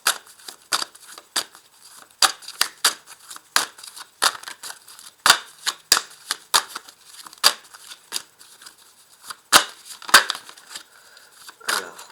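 Tarot cards are drawn and shuffled from a deck, producing many sharp, close papery snaps and flicks in an uneven rhythm, with no talking.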